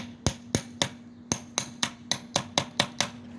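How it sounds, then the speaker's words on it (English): A hammer taps on an engine part from a 1966 3hp engine, about a dozen sharp metallic knocks in a quick, slightly uneven rhythm, close and clear, over a faint steady hum. "Give it a couple of taps."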